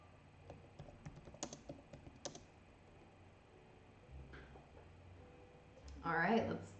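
Fingers tap quickly on a computer keyboard, producing a burst of light, irregular clicks up close. After a quiet stretch, a person speaks.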